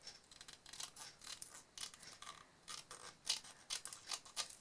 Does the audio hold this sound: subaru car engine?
no